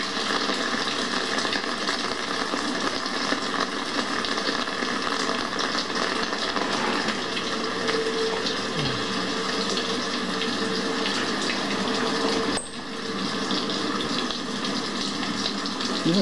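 Water pours steadily from a rainwater collection barrel, a loud continuous gushing stream that runs almost unbroken throughout, with one brief dip near the end.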